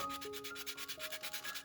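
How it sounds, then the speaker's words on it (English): Sandpaper rubbing the contact points of diecast model parts before gluing, quick rhythmic back-and-forth strokes heard close and faint with no talking. "The only thing I need to do is a little bit of sanding on each of those contact points."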